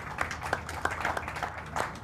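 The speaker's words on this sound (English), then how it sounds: "Can we have a round of applause" An audience gives a round of applause for a candidate at the Anambra State governorship debate, soft, thin clapping from a modest number of hands with distinct separate claps, faint and distant.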